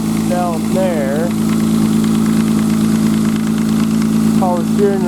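A 1995 Nissan Maxima engine idles steadily and loud up close with a constant hum and a fine mechanical tick, while a person talks over it.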